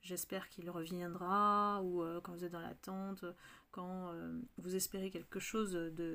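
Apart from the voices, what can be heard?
No everyday noises stand out.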